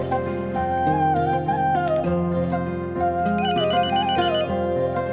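A phone ringtone plays steadily in an indoor drama scene, a repeating electronic melody over a soft musical bed, with a brighter high chirping pattern joining near the end; no one speaks.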